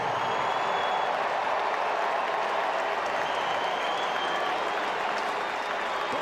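A baseball crowd at Rogers Centre in Toronto gives a sustained ovation to returning former Blue Jays infielder Bo Bichette, a loud, even roar of clapping that holds steady throughout.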